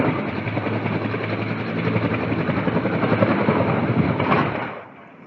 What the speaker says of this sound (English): A Bell U H-1H Huey firefighting helicopter crashed moments later.